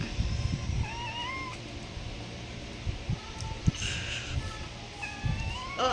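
A kitten meows a few times in short rising calls, fairly close, with rustling and light shuffling movement around it and no talking.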